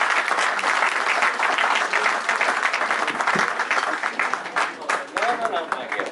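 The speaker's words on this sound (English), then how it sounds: "Again, a round of applause for our friends." Guests at an annual dinner give a sustained round of applause, loud and close, tapering slightly as voices start to emerge toward the end.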